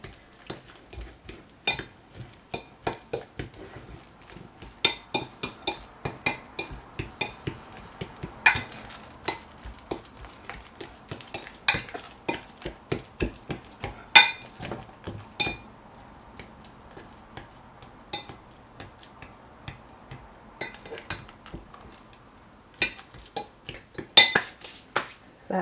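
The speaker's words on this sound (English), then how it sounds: "Gonna mash the bananas with a fork." Ripe bananas mashed with a metal fork against a bowl give repeated sharp clinks and taps in an uneven rhythm, close and fairly quiet, with soft squishing between strikes.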